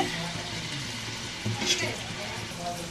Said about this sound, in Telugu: నూనె అయితే వేడెక్కింది, ఆనియన్స్ వేసుకోండి.